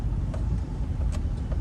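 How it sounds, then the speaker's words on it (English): A car rolls past on a residential street in Naples, Florida, a steady mid-level engine and tire rumble that stays fairly constant through the short stretch with no voices. "look at this car's about to pass us right here."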